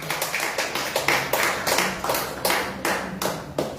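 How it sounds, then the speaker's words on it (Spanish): A church congregation clapping in steady rhythm, about four claps a second, many hands sounding together in a reverberant hall with no talking. "Dale una ofrenda de palmas al Señor."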